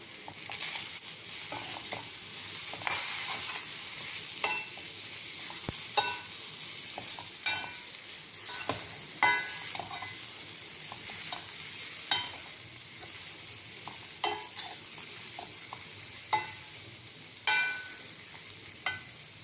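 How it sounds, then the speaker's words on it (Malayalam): A spoon stirs a potato and okra masala curry in a pan after ground pepper goes in, with steady scraping strokes and clicks over a continuous sizzle, close and alone with no talk. "ഇതിലേക്ക് ഞാൻ ഒരു 1/2 ടീസ്പൂണോളം കുരുമുളക് പൊടി ഇട്ട് കൊടുക്കുന്നത് ചേർത്തിട്ട് നന്നായിട്ട് മിക്സ് ചെയ്യാം."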